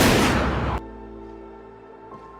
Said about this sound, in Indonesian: Regu tembak bersiap. Hitungan dimulai. Tembakan pun dilepaskan.